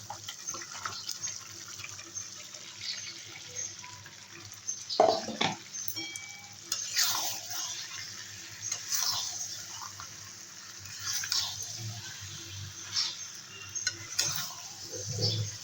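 Jackfruit pieces stir in spiced oil in a pan, a soft, fairly faint sizzle with intermittent scraping and clattering bursts of the spoon against the pan.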